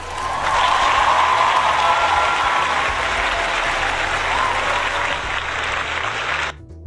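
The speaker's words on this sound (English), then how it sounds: "You get a round of applause." An audience breaks into loud, dense applause that swells quickly and holds steady for several seconds before cutting off sharply, the clapping crowd close and full, with a faint voice beneath it.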